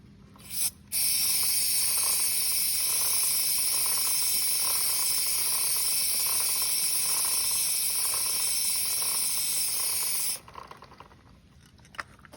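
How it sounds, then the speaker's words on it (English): An aerosol can of chain degreaser hisses in one long, loud continuous spray for about ten seconds while a motorcycle tire is spun, with faint mechanical ticking of the chain beneath and a short burst beforehand. "you will apply this degreaser to all sides of the chain as you're spinning the tire like so"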